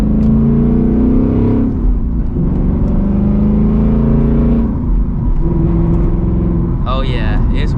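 A Ford Mustang GT S650 V8 fitted with headers and a louder exhaust rumbles and revs from inside the car, a deep loud drone rising and falling, with a person talking over it.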